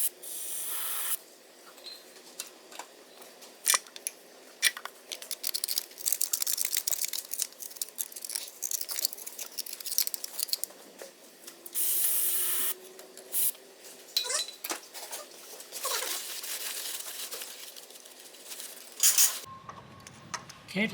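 Brake cleaner sprayed onto a Cummins diesel engine block on a 3rd Gen Dodge Ram while a brush scrubs it, giving close, intermittent hissing bursts and raspy rubbing throughout.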